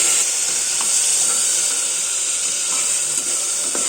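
Chopped tomato frying in hot oil with masala for masale khichdi gives a steady, close, continuous sizzle with a bright hiss throughout and no talking.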